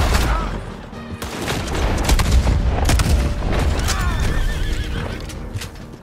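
Horse neighing and hooves clip-clopping in the Red Dead Redemption 2 video game, loud and close with a busy mix of game ambience and occasional distant gunfire.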